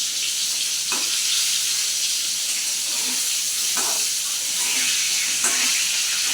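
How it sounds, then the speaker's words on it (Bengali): Pointed gourd (potol) fries in hot oil with a steady loud sizzle, broken by several sharp pops and sputters. "ভীষণ ফাটছে পটলগুলো"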